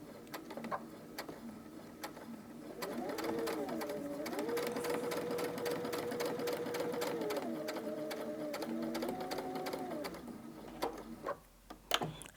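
Sewing machine stitching a pocket onto a fabric panel for an advent calendar, running steadily for about ten seconds with a humming motor whose pitch shifts in steps, then stopping, with a few clicks at the end.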